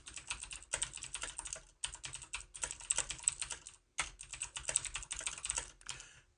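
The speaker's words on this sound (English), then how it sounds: "I open up a backtick and I start typing" Rapid typing on a computer keyboard, close and fairly quiet, with irregular bursts of key clicks separated by two short pauses and no talk.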